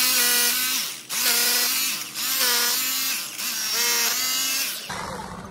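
A power drill bores through a screw hole in a railing post in four repeated bursts of about a second each, its whining motor sweeping as the bit cuts, close and loud, then stops.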